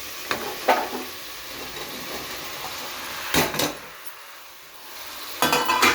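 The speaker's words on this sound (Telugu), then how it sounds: "ఇప్పుడు మనం కట్ చేసి పెట్టుకున్న ముక్కలు అన్నీ వేసేస్తాం" Chopped vegetables tipped into a pan of softened, cooking tomatoes, with several loud clattering bursts of pieces and utensil against the pan over a low background sizzle.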